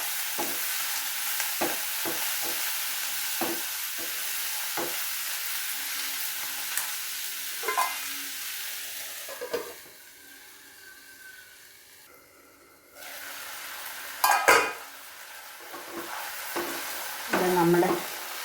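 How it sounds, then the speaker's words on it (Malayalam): Onion and tomato chutney sizzles steadily in a pan, with intermittent scraping stirs and a few louder knocks; the frying hiss drops briefly midway before resuming, and no voices are heard. "എല്ലാം കൂടെ നല്ലതുപോലെ തന്നെ ഇളക്കി യോജിപ്പിച്ച് വീണ്ടും മൂടി വെച്ച് വേവിക്കും."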